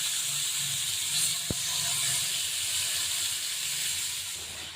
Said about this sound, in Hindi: इस तरह से आवाज़ आनी चाहिए पैन से कि ऑयल हमारा बढ़िया से गर्म हो चुका है